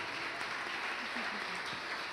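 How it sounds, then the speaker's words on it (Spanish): A church congregation at a Sunday service applauds, a dense, even wash of clapping that carries on through the whole moment while a voice speaks over it. "Samantha Galilea Palacios Flores, a quien les pido por favor un fuerte aplauso"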